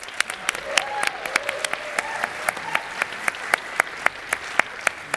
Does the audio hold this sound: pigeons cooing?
no